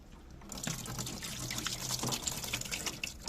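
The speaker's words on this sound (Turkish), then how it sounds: "Of çok da su geliyor ya" Water gushing and trickling steadily out of a combi boiler as it is taken apart for cleaning, close and continuous after a brief quieter start.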